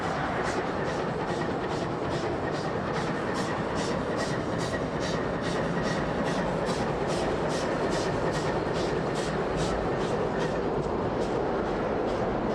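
A train rumbles steadily across a bridge over the Orua River at dusk after departing Feilding. Its wheels clack in a regular rhythm over the rail joints, a continuous moderate roar with no voices.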